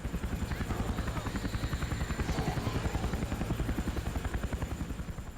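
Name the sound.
helicopter in Roblox video game Those Who Remain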